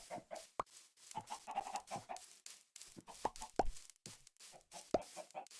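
Thrown eggs plop and baby chicks hatch and cluck in Minecraft: a quiet series of short, soft popping sounds mixed with small clucks, scattered irregularly.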